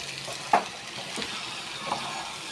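Fish head and cabbage sauté in a pan with a soft, continuous sizzle, broken by a few sharp spatula scrapes and stirring clatters close by.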